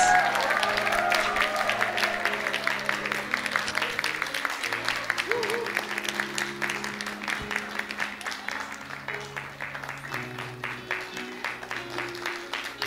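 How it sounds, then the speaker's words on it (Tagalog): Guests at a wedding celebration break into sustained applause and cheering, a dense wash of clapping that runs the full length and slowly eases off, with a voice speaking over it near the start. "Let's give them a 10-second clap and cheer."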